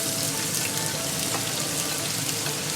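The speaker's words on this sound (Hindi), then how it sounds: "अब मैं इसके अंदर ये चॉप की हुई प्याज ऐड कर दूँगी।" Chopped onion hitting hot, whole-spice-infused oil for a chicken karahi masala, giving a steady, dense, fairly loud sizzle that runs evenly throughout with no talking.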